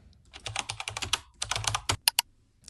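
Keystrokes on a computer keyboard as a search term is typed, a quick irregular run of clicks in two bursts with a short pause, then a few final louder taps, close and alone.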